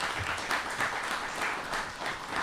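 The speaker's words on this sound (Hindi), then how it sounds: "आप भी एक मरतबा इन सब शोरा का तालियों की गूंज में खैर मक़दम करें" Audience applause at a Republic Day mushaira welcoming the poets: steady, dense clapping from a crowd, sustained throughout with gentle swells and no voices over it.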